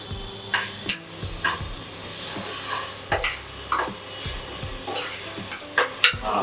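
Ginger garlic paste sizzles in a pan with tomato for a mutton sambar, under a constant frying hiss while a spoon stirs and scrapes the pan in repeated sharp clinks.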